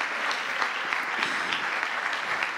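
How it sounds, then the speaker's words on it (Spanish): A Spanish-speaking church congregation applauds in worship. The clapping is sustained and evenly crowded, moderately loud, and no speech rises above it. "Un aplauso para Él en esta hora"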